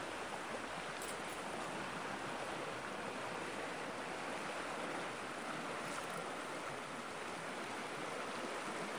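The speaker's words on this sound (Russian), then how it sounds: "Вот речка текет." Small forest river flowing steadily, a faint continuous broadband rush of water with no talk, even and unbroken throughout.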